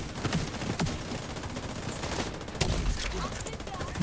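Bursts of allied gunfire crackle through a shooter video game firefight, a dense continuous rattle of overlapping shots with a few sharper cracks standing out, all under steady game noise.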